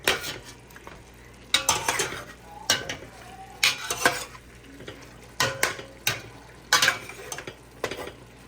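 Stainless steel pan and ladle stirring garlic during home cooking: repeated metallic scrapes and clinks in irregular bursts, close and fairly crisp, over a faint background hum.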